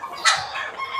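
A young gamefowl stag at a game farm gives a short crow-like call with clucking, fairly close and moderately loud, over faint farmyard background, with no talking.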